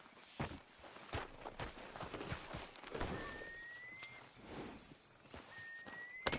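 Horse hooves clip-clopping in Red Dead Redemption 2, a series of close, uneven hoof thuds at a walking pace with a faint whistle-like tone in the background.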